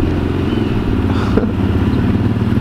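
A Yamaha Raptor 250 ATV engine runs steadily as it is ridden by a child learning the manual clutch, with a loud, close, continuous putter throughout.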